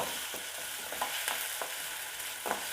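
Onions sautéing in a pan for rava kichadi give a steady close sizzle, with a few soft spoon-scraping stirs scattered through the quiet hiss.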